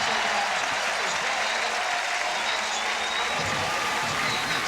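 A sold-out football stadium crowd of over 50,000 cheers and applauds in a broad, continuous roar that stays steady throughout.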